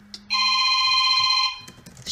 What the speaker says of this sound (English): Oh, shut up, phone. I don't want to answer you.